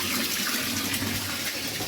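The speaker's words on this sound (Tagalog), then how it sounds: "Punon ako ang tubig." Tap water pours steadily into a container, a loud continuous rushing splash running throughout without pause and with no speech over it.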